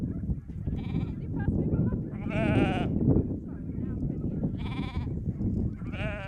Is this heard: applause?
no